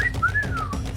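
A person whistles a wavering, sliding tone to imitate an enraging animal call during a tabletop role-playing game, a single clear whistle lasting about a second with no talking.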